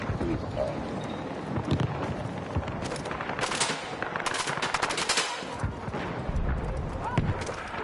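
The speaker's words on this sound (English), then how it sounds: "who's shooting at me? You shooting at me?" Rapid automatic gunfire in the Battlefield 6 video game crackles in steady bursts, mid-distance and moderately loud, with a player talking over the shooting.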